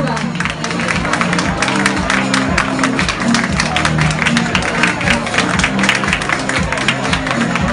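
Applause from an audience at a Milan beach fashion show rolls on steadily while models walk, with people talking over a rhythmic thumping music track beneath the clapping.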